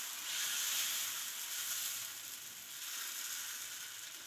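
Dosa batter sizzling and frying on a hot pan, a steady, close, broad hiss that swells and eases slightly throughout with no voices.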